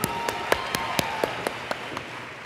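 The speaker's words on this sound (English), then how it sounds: "Round of applause for Curtis," Audience at a sales training event claps for prize winner Curtis, a steady round of applause with a few louder individual claps standing out at a regular beat, moderately distant and sustained throughout without talk.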